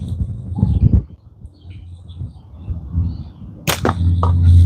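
A slingshot shot strikes a target outdoors, with a sharp crack near the start, a quieter stretch with faint background noise, then a loud impact snap later on, followed by low rumbling.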